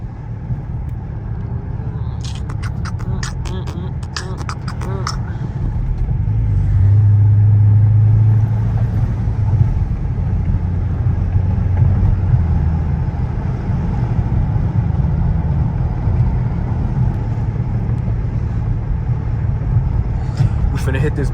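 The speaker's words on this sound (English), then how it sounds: "I'm gonna get them loud revs and loud and a loud exhaust too" A Dodge Scat Pack with a loud exhaust drives at night, its deep engine rumble steady and close, then swelling into a louder revving stretch that holds at a heavy drone; a few faint voices and clicks sit under it early on.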